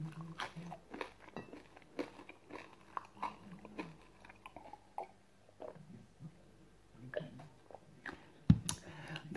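Close, crisp bites and crunchy chewing of air-fried crispy pata (fried pork leg), repeated irregular crunches and mouth sounds with brief pauses and a sharp crack near the end.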